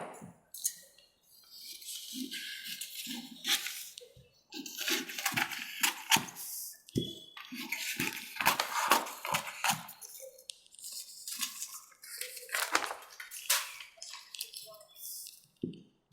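Scissors snip through paper to cut a size 36 katori blouse pattern, giving a run of sharp, crisp cuts in irregular bursts, close and fairly quiet, with a voice talking between them.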